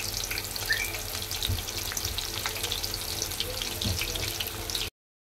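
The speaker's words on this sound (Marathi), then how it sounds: "आता हे दुसरे पण मस्त असे फ्राय करायचे, तेलामध्ये तळून काढायचे चांगले" Soybean pakoras, a second batch, frying in hot oil, giving a steady crackling sizzle with fine bubbling that holds evenly for about five seconds before cutting off abruptly.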